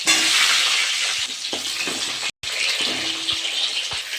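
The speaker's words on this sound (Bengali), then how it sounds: "ওই তেলে আমি আলুগুলো ভেজে নেব" Potatoes frying in oil left from frying dried fish, a loud close hiss and crackle with spatula scrapes and knocks against the pan, broken by a momentary silent cut, no speech.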